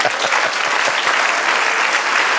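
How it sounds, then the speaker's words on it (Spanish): Sustained, dense applause from a church congregation, loud and steady throughout with a few individual claps standing out. "Denle otro aplauso al Señor."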